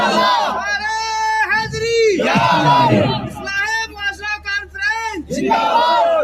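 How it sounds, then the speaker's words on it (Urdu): At a religious jalsa gathering, a man in the audience shouts a slogan and the crowd roars back in unison, loud alternating call-and-response bursts repeating several times. "بہت اچھا نعرہ لگایا ہمارے بھائی نے"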